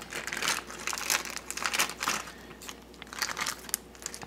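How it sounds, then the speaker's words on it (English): Close plastic crinkling and crunching in irregular bursts as a small bag of sealing screws for a scale bracket is handled and squeezed, with no talking. "They'll come in a plastic bag like so."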